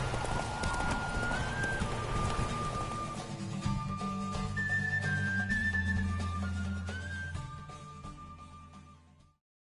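Hooves of a horse galloping in a race in The Witcher game, a steady rapid clip-clop throughout, loud and close, joined by a brief whinny and whistling tones before fading out at the end.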